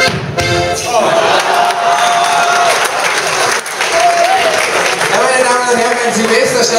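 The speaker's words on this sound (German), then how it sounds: "ein kräftiger Applaus für die zwei" An audience at a Schuhplattler dance performance during a sports club ball claps loudly and continuously, sustained applause with some cheering while a voice talks over it.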